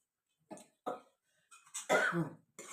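Several sharp coughs, a few short single ones followed by a longer, harsher burst, close by with no talking.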